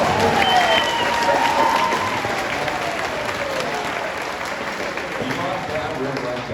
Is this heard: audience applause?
yes